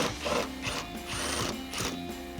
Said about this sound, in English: grab your extension and a 10mm socket and let's get this removed